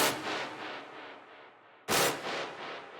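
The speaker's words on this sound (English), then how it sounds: "I've also layered it with a brass stab, which sounds like this." Two bright, punchy brass synth stabs with a crunchy, distorted edge, each decaying into a rhythmic pulsing tail, the second hitting sharply after a brief dip.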